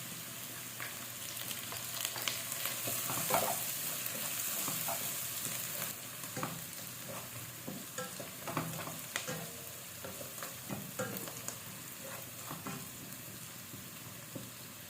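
Butter sizzles in a frying pan with aromatics, a steady hissing crackle with occasional stirring scrapes and clinks, close and continuous throughout.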